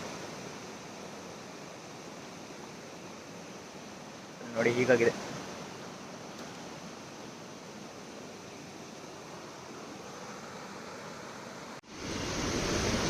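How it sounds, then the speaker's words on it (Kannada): A swollen village river full to its banks rushes with a steady, unbroken roar. Someone speaks briefly over the water partway through. "ನೋಡಿ ಈ ಥರ ಹೊಳೆ ನೀರು ತುಂಬಿದೆ."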